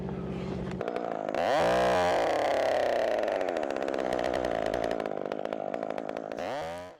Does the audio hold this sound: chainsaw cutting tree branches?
yes